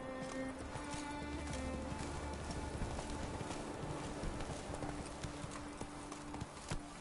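A horse gallops in the Witcher 3 video game, its hooves clip-clopping rapidly and steadily throughout over a dense game soundscape, with a brief whinny.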